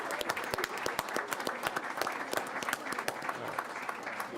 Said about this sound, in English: can we get one big round of applause for their accomplishments